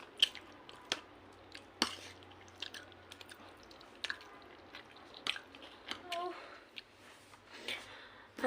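Close, quiet chewing of food hand-mixed by a mother, likely with chilli, with soft wet squishy bites and small clicks recurring irregularly over a low background hum.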